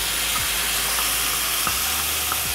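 Fresh garlic sizzles steadily in a pan for a spicy tilapia fish stew, with a constant loud hiss and faint clinks, and no voices.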